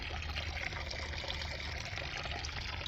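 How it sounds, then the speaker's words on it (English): Water running down into a torrent sluice used for gravity gold prospecting beside the Wisconsin River, a steady close rushing trickle that carries on without a break and with no voices. "it's feeding the bottom of the torrent sluice head, and it's coming down. We got pretty good water flow."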